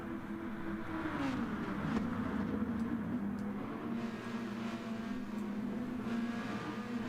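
Racing car engines from the Gran Turismo Sport video game drone steadily at a constant, moderate level with a smooth pitch glide, like a continuous in-game engine hum with no talking.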